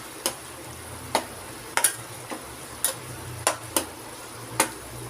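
Spiced masala for chole fries in oil over a medium flame with a faint steady sizzle, and a spoon scrapes and taps the pan at irregular intervals. There is no talking.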